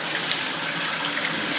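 Hot water pours from a shower tap at strong pressure, a dense continuous hiss and spatter, close and loud, running steadily with no voices.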